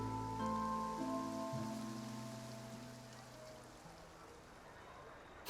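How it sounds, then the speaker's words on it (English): Rain falling in a video game scene, a steady soft hiss of drops that continues throughout while sustained musical tones fade out underneath. "It rained for longer than I suspect."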